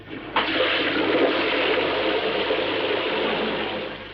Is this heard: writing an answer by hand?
no